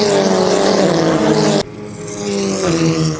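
A race car roars past at speed on the Nogaro circuit straight, loud and close, its engine pitch dropping sharply as it passes, then a second car's engine rises behind it.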